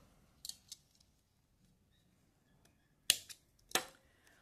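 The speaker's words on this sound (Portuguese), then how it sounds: "Deixa eu ficar um pedacinho de fio aqui, deixa eu cortar." Scissors snip through a short piece of knitted jersey yarn, a few soft faint cuts early on followed by two sharper, louder snips, in a quiet room.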